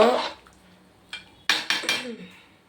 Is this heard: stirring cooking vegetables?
yes